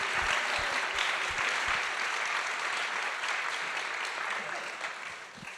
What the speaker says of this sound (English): join me in an applause for our wonderful advocates